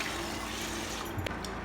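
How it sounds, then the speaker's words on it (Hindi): Cold water running over boiled greens (bhaji) being washed for a Chhattisgarhi recipe, a steady close splashing rush with a few brief clinks near the end. "और इला धोबो संगवारी में हम ठंडा पानी में"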